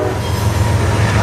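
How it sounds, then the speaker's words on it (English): Freight train rolling along the tracks in winter between St. Louis and Danville, a loud, steady low rumble of wagons with faint wheel squeal, close by and continuous. "I'm honestly not sure what train it is."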